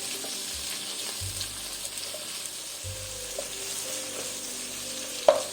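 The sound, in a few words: sautéing onion and tomato in a pan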